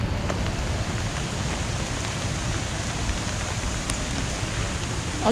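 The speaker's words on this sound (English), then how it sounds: "It's raining really quite hard." Constant, dense hiss of heavy rain falling at Disney's Animal Kingdom theme park, steady and unbroken, with no voices.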